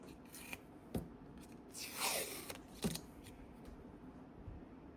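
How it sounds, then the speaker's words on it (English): Blue tape is peeled off sublimation magnets, giving a soft ripping strip sound near the middle among a few light taps and handling clicks, quiet and close with no speech. "let's take off our blue tape"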